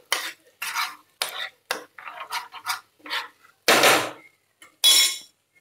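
Fried onions stirred in butter in a pan for dal fry, heard as a series of separate scraping, clattering stir strokes in quick bursts, close and fairly loud, with only a faint sizzle between them and no talk.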